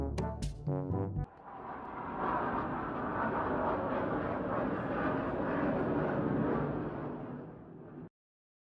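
Propeller airplanes in an animated war scene roar overhead, a broad, steady engine drone that swells and fades after a short opening burst, then cuts off abruptly.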